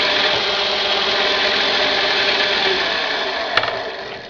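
A drill press cuts a rosette into a wooden cabinet facade, a steady, loud rasping whir with a sharp click near the end as the sound tapers slightly.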